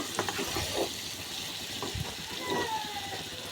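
Rohu fish and kohlrabi curry being sautéed in a pan, with a steady close sizzle and intermittent scraping stirs throughout, no voices.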